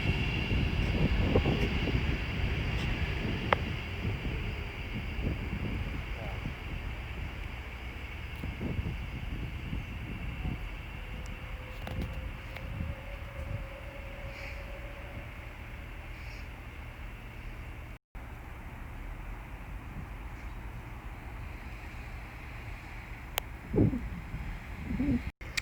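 A London Northwestern Railway service from Birmingham New Street to Liverpool Lime Street passes through Stafford on the West Coast Main Line, a broad rumbling roar that is loud at first and then fades into a long steady wash of outdoor background noise.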